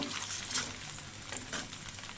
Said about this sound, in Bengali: আমার ডিমগুলো ভাজা হয়ে গেছে একটু ভালো করে ভাজতে ভালো লাগে